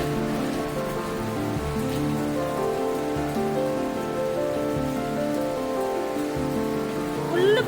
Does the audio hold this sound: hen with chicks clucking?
no